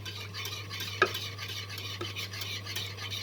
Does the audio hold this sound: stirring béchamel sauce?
yes